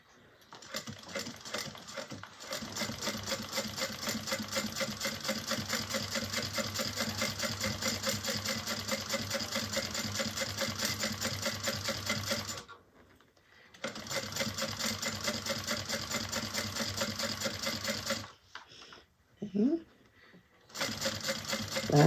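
A sewing machine stitches a Harmony bag in a long steady rapid run, pauses briefly, resumes, then stops as the needle drops and the fabric pivots, close and loud.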